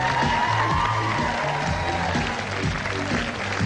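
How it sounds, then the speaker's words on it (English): Audience applause for the blue team at an improv comedy show, a steady, dense wash of clapping with some cheering and crowd noise, sustained and loud throughout. "Give them a round of applause."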